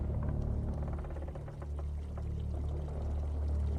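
Water pours down a channel into a tank in a steady, moderately faint gurgling flow over a low rumble, with no voices.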